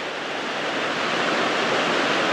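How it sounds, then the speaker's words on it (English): Rain-swollen water rushing across farmland in a Kenyan village after heavy rain, a steady, dense hiss of flowing water without pause or voices. "the water is flowing like there's a lot of water that's flowing here"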